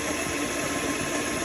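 A stand mixer creams butter for Russian tea cookies at raised speed, giving a close, steady motor whir with no break across its short length.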